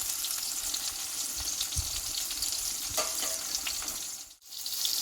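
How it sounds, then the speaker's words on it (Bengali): Pieces of pointed gourd (potol) fry in a little oil in a pan, giving a steady close sizzle with a few light clinks and scrapes, no voices. "ভেজে নিতে হবে পটলগুলোকে"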